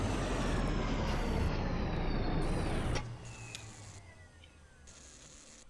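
A tram rolls along damaged mine tracks in the Kentucky Route Zero video game: a loud, steady rumbling roar for about three seconds, then it drops to a quieter, thinner hum.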